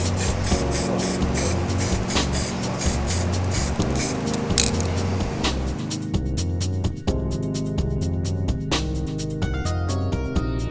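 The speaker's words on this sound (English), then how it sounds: "you want to take them somewhere ventilated so you can spray paint and add some color to your design" An aerosol can sprays paint onto laser-engraved marble coasters in a series of close, loud hissing bursts, first long and continuous, then shorter separate puffs.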